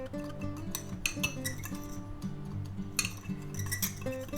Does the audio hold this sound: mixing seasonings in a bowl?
yes